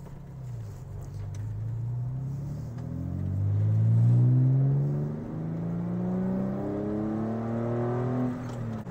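A Porsche 911 engine on Bilstein B8 suspension with lowering springs hums and revs over a rough parking lot, its pitch climbing as it accelerates then easing off and rising again, with no talking.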